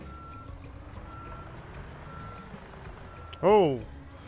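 A dump truck backs up in Road Work Construction Simulator 2022, its reversing alarm beeping faintly and steadily in the background. Near the end, a short, loud vocal exclamation rises over the beeps.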